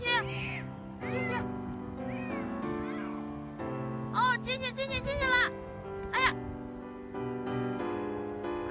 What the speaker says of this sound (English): This man rescues a cat who was stuck in a canal.